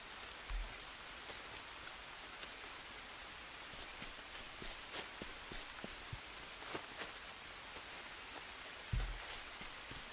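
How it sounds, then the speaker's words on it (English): Rain falls steadily in the jungle survival game Green Hell, a soft continuous patter with scattered sharper drops spread throughout, heard alone without any voices. "The rain falling down on our heads, just giving us a nice quick shower."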